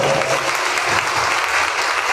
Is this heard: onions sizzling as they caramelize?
no